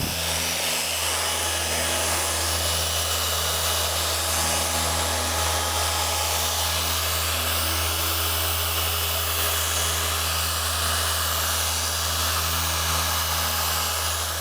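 Steady high-speed whir of a spinning polisher pad working the paint of a McLaren MP4-12C, a constant loud drone with a low hum underneath, running alone throughout.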